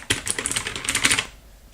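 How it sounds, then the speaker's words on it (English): A mechanical keyboard with blue switches clicks under fast typing, a close, crisp burst of rapid keystrokes lasting just over a second before fading to quiet. "Very clicky, as expected of blue switches."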